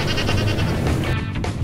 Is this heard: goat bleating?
yes